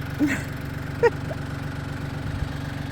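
A tractor engine idles with a steady low-pitched rumble throughout while trenching, joined by a couple of brief sharper knocks or clanks.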